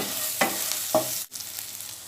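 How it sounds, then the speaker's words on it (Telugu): Drumstick pieces and chopped onion cooking in a pan for a drumstick curry, with a steady soft sizzle broken by two scraping strokes of stirring and a brief pause before the frying resumes. "ఒక ఉల్లిపాయ తరుగు కూడా వేసి మొత్తం చక్కగా కలిపి మగ్గనివ్వండి"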